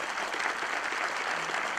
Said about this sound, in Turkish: Kızlara güzel bir alkış.